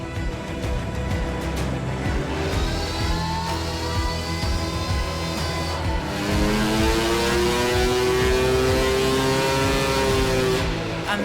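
A powerful motocross dirt bike with more than 70 horsepower runs hard on a dyno, a loud, continuous engine roar that climbs in pitch through repeated rising sweeps, close and unbroken with no talking.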